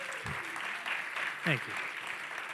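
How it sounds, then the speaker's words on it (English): Applause from an audience at a fireside chat at a blockchain conference, a steady crowd clapping wash lasting throughout, with a voice briefly speaking over it. "Can we just give this guy a round of applause, please?"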